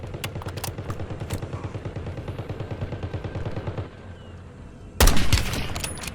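Rapid automatic gunfire in the video game Warzone, a steady rattling burst of shots for several seconds, a brief lull, then a louder, sharper volley of close shots.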